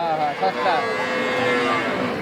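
A cow moos in a drawn-out, wavering call at a wholesale cattle market, with some voices and farm noise in the background.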